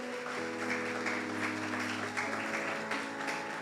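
Church congregation applauding through a service, a steady wash of clapping held under a sustained organ or keyboard tone, moderately loud and continuous throughout.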